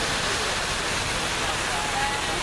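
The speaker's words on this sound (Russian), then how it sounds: "Ой, такие капельки прямо брызгают." Steady broadband spray of water droplets from a fountain in a city square, a dense continuous hiss close by and fairly loud, with no clear pauses.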